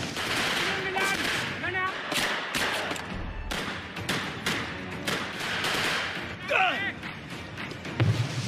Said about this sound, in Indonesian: dengan cepat, Sersan Gregg melemparkan sebuah granat. Dan terjadilah kontak senjata.